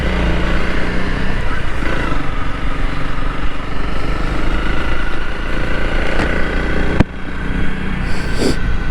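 A Honda CRF300L Rally dual-sport motorcycle engine runs steadily at a loud, close idle, with a constant low rumble throughout.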